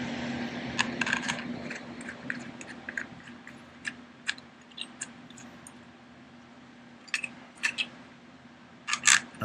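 14mm bolts going into the front axle of a Kubota BX23S compact tractor: sparse metallic clicks and light ticks from threading bolts by hand, close and quiet against a low background hum.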